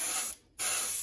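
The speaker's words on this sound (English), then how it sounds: "if I just shoot straight across, I'm going to spray purple all the way across to this side" Airbrush spraying purple paint onto a custom Batman vs Joker PS5 controller: two steady hissing bursts separated by a brief pause, close and fairly loud.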